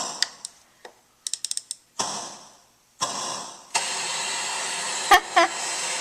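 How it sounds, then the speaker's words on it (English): A few clicks and ticks give way to a steady synthesized hiss from a SID-chip organ keyboard that roars on like a blowtorch, broken by brief electronic blips. "That's our blowtorch noise."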